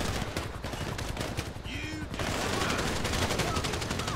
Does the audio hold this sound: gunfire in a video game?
yes